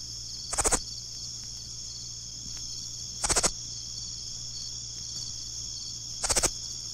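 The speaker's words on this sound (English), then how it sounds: "Here's the night song of the Texas bush katydid," Texas bush katydid (Scudderia texensis) singing at night: three short buzzy lisping bursts spaced about three seconds apart, fairly close and clear, over a steady high chorus of other insects.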